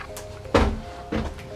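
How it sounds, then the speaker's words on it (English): A fire-damaged fire door is pushed open with two solid thunks about half a second apart, close and fairly loud against a quiet room. "But if we open the door,"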